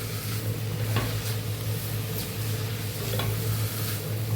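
Meat frying in a pot with a spoonful of ordinary ghee, a steady loud sizzle under occasional scraping stirs of a spoon against the pot, no talk.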